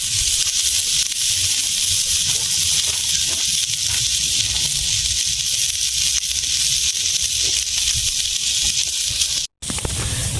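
Cauliflower pieces frying in oil with five-spice and chili, a continuous broad hissing sizzle that holds steady and cuts off abruptly near the end.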